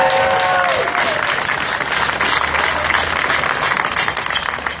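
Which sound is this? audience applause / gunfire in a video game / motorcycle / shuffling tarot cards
audience applause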